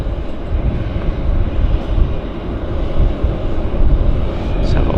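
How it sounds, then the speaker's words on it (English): An American Airlines Boeing 737 taxis at Vancouver airport, a steady broadband jet rumble that holds at moderate distance without clear change, with a faint hint of voice in the background. "So we've got an American taxiing out here. 737."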